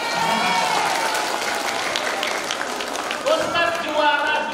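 An audience claps steadily at a Ramadan gathering, a dense patter of hands that continues throughout with a slight swell near the end.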